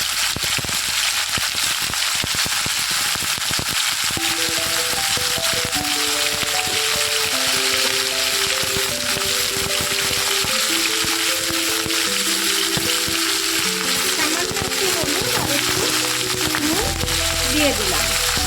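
Mango pieces fry in a pan with salt and a little turmeric, a steady close sizzle with occasional stirring scrapes, and a voice talks over it throughout.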